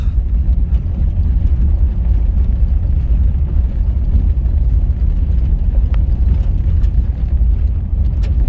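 Astro van crawling off-road in two-wheel drive with a posi rear end on a rough desert track to Saline Valley hot springs: a steady, loud low engine and drivetrain rumble with road noise, continuous throughout, no talk.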